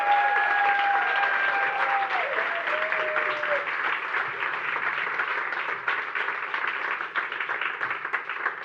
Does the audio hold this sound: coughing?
no